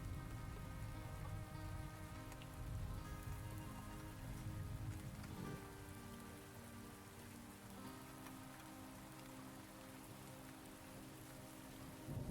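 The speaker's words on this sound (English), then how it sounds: "The first one is a thunder and rain sounds for sleeping black screen, like 10 hours long." Thunder-and-rain sleep recording playing as steady background: a continuous wash of rainfall with a low rumbling bed, fairly quiet and unchanging, alongside faint sustained musical tones, with no talking.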